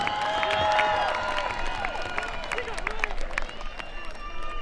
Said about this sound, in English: Another round of applause for our construction trade students.